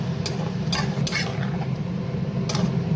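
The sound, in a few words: stirring ginger, tomato and chili paste in hot oil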